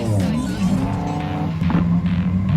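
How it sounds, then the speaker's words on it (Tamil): A Lamborghini supercar's engine runs at an awareness rally, a close, steady, throaty drone with a slight swell toward the end rather than a sharp rev burst. "இந்த காரெலாம் ஸ்டார்ட் பண்ணி இதை ரிவ் பண்ணது எல்லாமே நான் வந்து கேட்கவே இல்லை"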